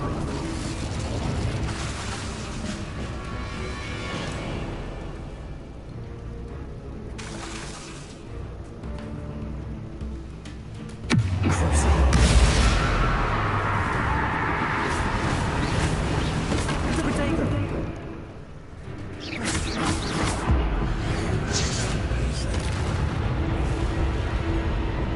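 Game spells, including the Incendio fire spell, go off in a PS4 match, with heavy booming blasts and rumbling bursts. A loud surge comes midway and the blasts stay dense throughout, with a voice talking over them.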